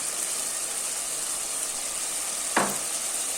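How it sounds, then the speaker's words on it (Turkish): Steady, close frying hiss of meat in a pan, broken near the end by one short burst of louder sizzle as chopped tomatoes are added for a meat and winter squash dish. "önce domateslerimizi ekleyelim"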